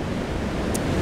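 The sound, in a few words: wind blowing at the beach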